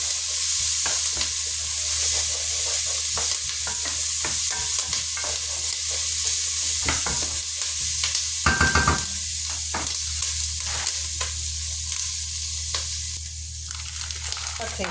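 Onion sizzling and frying in a pot, a constant crackling hiss with intermittent scrapes and clinks of stirring, close and steady throughout.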